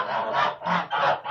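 Linda and large grey breed geese in a farmyard coop give three or four loud, close, nasal honks in quick succession, alone with no talking.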